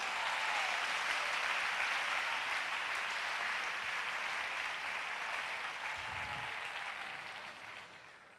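A church congregation applauds during a sermon, a dense, steady clapping that stays loud for most of its length before thinning and fading near the end.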